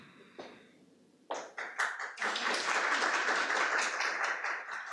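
Audience applause at a talk on children's peacebuilding: a few scattered claps start out, then a full room of clapping swells and holds steady, moderately close with no talking over it.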